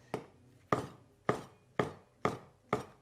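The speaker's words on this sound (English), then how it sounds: "all we have to do is slice up your shiitake mushrooms" Six sharp, evenly spaced knife chops as shiitake mushrooms are sliced on a cutting board, close and crisp, with no talking.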